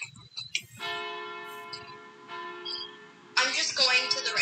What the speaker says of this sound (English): I already just rang the bell.